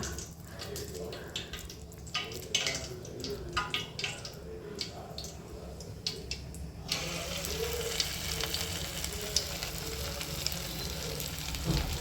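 Leftover-rice bondas sizzle steadily in hot oil as pieces are dropped in one by one, with a bright crackling hiss that swells and stays continuous after the first seconds.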